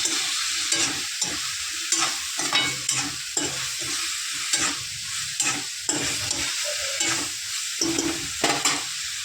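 A ridge gourd curry base of onion masala, garam masala, black masala and coriander powder is stirred in a frying pan, with a steady run of scraping spatula strokes over a continuous sizzle.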